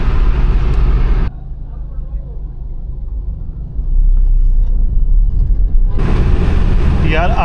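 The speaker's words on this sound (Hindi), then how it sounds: "गाड़ी यार बहुत शानदार चल रही है" A car cruising on a highway from Ghaziabad toward Kanpur after a recent service, heard from inside as a loud, steady road rumble and engine drone that drops briefly and then swells back, with no talk.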